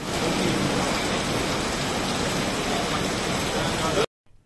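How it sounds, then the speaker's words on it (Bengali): Heavy monsoon rain roars as a dense, even hiss close by, loud and unbroken for about four seconds before stopping abruptly. "প্রচণ্ড বৃষ্টি হচ্ছে।"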